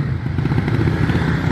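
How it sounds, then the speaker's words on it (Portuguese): An ML 287cc motorcycle engine runs rough and loud up close, its dense rapid firing pulses and mechanical clatter filling a short burst with no talk over it. "a moto parece que tá muito bruta"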